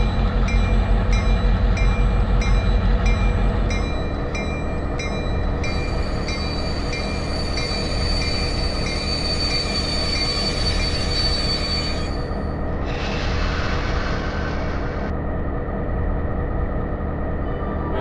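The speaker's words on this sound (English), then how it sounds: "the locomotives need to make another move down on Main 1" Model train locomotives rumble steadily along a layout track with rhythmic clicking, then high metallic squealing rises and fades as they keep moving, loud and close.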